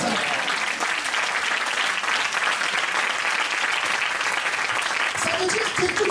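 A church congregation applauding during a Sunday morning sermon, dense continuous clapping from many hands filling the room, loud and sustained for several seconds with faint voices mixed in.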